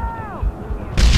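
A grenade blast goes off in Call of Juarez: The Cartel during a firefight, a sudden loud boom near the end after a falling tonal whine and dull thumps.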